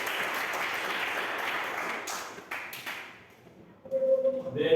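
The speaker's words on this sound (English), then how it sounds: "Give an applause to all of you." A classroom of students applauds during a biology lesson, moderate clapping that fades after about three seconds, followed by a short ping and some taps.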